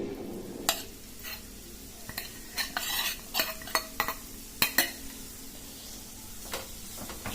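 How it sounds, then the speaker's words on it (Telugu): Freshly ground raw coconut frying in hot ghee in a kadai while a spoon scrapes and stirs, giving sharp metallic clinks and scrapes at irregular intervals over a soft, steady sizzle. "నెయ్యి వేడెక్కాక మనం ఇందాక మిక్సీకి వేసి పెట్టుకున్న పచ్చి కొబ్బరి వేసుకోవాలి"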